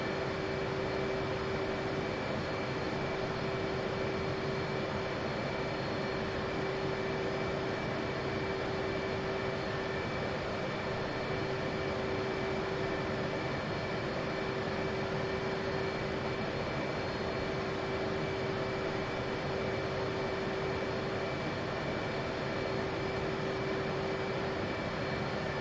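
An F/A-18C jet engine running on the runway in DCS World, a steady, loud, continuous roar with a constant whine that holds for the whole stretch.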